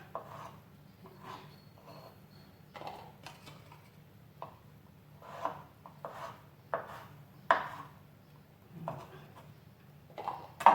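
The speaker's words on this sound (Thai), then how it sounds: "เดือนก็จะหั่นให้เล็กๆอย่างนี้นะคะ หั่นให้เล็กๆแล้วก็ใส่ลงไปในชนะของเรานะคะ" Knife chopping leftover soap bars into small pieces, heard as a run of light, irregular taps and knocks on a cutting surface at close range, with no talk over it.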